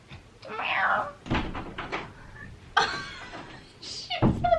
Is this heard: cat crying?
yes